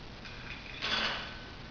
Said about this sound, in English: When I get rid of the ice,